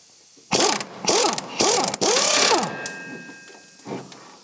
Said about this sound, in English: So these are the bolts we need to undo.